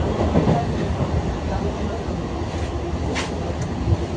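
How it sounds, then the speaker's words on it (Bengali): Rumbling train noise with a steady rolling clatter of wheels on rails, a few faint squeals and knocks on top, heard from on board. "অবশেষে ট্রেন পেলাম"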